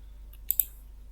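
Two or three quick, light clicks of keys pressed together for a keyboard shortcut, faint and close in an otherwise quiet room.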